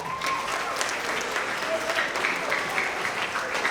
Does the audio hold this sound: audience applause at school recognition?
yes